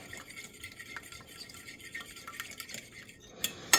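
A fork mixes soaked croissant pieces in a dish for saffron croissant French toast, giving soft, steady scraping and tapping at close range, with a couple of sharper clinks against the dish near the end.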